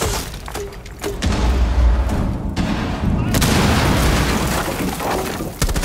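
Cluster charge and frag grenade blasts in Rainbow Six Siege come as loud booms with shattering debris and a sustained rumble after them, preceded by a few sharp clicks and impacts.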